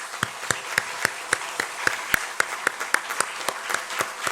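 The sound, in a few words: congregation applause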